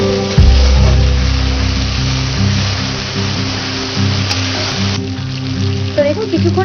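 Ground spice paste sizzles and fries in oil in a pan while being cooked down for katla fish tel jhal, a steady loud hiss with brief stirring scrapes.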